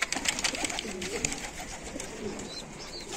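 Adana pigeons coo softly amid a busy, hissy outdoor background, their low murmuring calls rising and falling without a clear rhythm.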